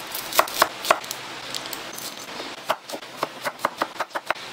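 A knife chopping red onion on a cutting board: a few spaced cuts, then a quicker run of crisp, close knocks.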